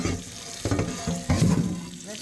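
Water runs and splashes over a rusted cast iron pan as it is rinsed, a close, gushing rush in uneven surges with scraping handling noises and no talk.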